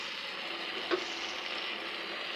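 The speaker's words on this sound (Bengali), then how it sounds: "মশলা আদা রসুন মশলা দিয়ে স্পাইসিভাবে রান্না করতেছি" Spices, ginger and garlic frying in a pan for a beef and pumpkin curry, a steady soft sizzle with one brief stir or tap, no talk.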